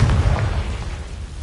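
A Confringo blasting spell explodes in the video game Hogwarts Legacy, a loud low boom at the start that rumbles and slowly fades over a second and a half, with no talking.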